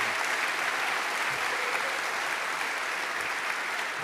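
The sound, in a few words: audience applause for keynote speaker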